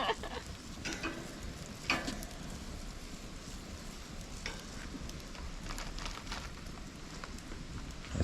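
Sausages sizzle in a pan with a soft, continuous crackle, broken by a few sharper pops and the clatter of the pieces being moved around. It is fairly quiet, and no voices are heard.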